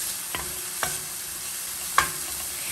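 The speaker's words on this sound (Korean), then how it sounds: "양파 잠깐 볶다가 다진 마늘 한 큰술을 넣고 같이 볶아주세요." Onion and minced garlic stir-fried in olive oil in a pan over medium-low heat, with a steady soft sizzle and three sharp spatula scrapes or taps spread across the stretch, no voices.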